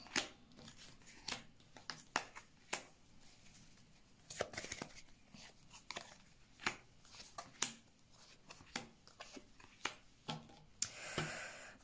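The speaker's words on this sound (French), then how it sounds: "Il y a beaucoup de cartes qui tombent" Tarot cards shuffled and dropping onto a surface: a quiet, close series of sharp flicks and soft slaps at irregular intervals, ending in a brief rustling burst.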